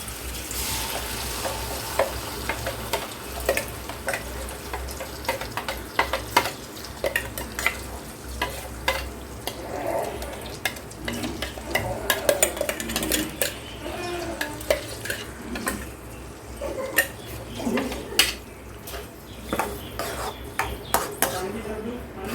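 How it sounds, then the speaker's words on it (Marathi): Masala being sautéed in hot oil for a Kolhapuri chicken curry, a steady sizzle under repeated scraping and stirring of a spatula against the pan, with clinks of metal, close and busy. "आता मी तेल तापल्यावर ना त्याच्यात डायरेक्ट मसाला टाकणार आहे सो हा मसाला आता तेलात मी छान परतून घेणार आहे"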